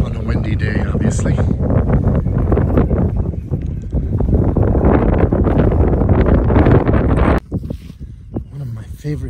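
Strong wind gusts across a ranch campsite on a windy day, battering the microphone with loud, continuous buffeting and rustling that drops off sharply near the end.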